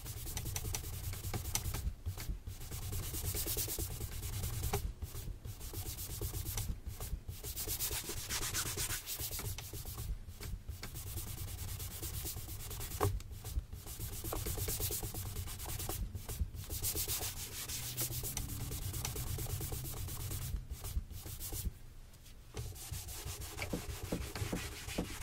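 A nylon brush rubs briskly over a leather men's boot during a shoe shine, a close, continuous swishing scrub with brief pauses every few seconds.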